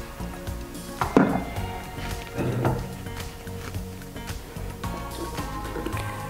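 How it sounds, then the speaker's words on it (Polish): The lid of a COBBO kitchen robot with hot water inside is opened, giving a sharp clatter near the start and a softer knock later over steady kitchen hum and light clinks. "Otwieramy delikatnie pokrywę, ponieważ jest gorąca woda w środku."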